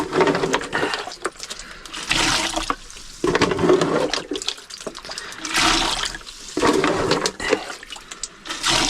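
Water is emptied from a small leaking boat, heard as close, repeated sloshing and gushing pours in bursts separated by short pauses.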